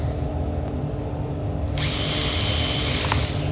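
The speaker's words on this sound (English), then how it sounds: "Left hand bead, you drill the top side." A power drill whirs steadily, then bites into a wooden sash window frame with a louder, rougher grinding for the last couple of seconds, close up.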